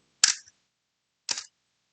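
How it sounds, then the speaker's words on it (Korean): Two sharp mechanical clicks of a camera shutter, about one second apart, as it opens and then closes on a one-second exposure; close and crisp, with silence between. "찰, 각. 이게 셔터예요."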